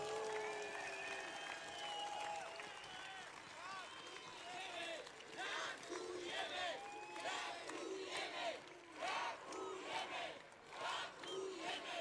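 A large crowd at a political rally in Bratislava claps and cheers in a sustained wave of applause, with shouts rising through it, dense and fairly distant throughout.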